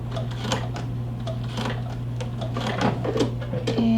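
Sewing machine stitching across a lapped zipper, a steady mechanical hum with rapid ticking needle strokes and a short backstitch, close and moderately loud, no talking.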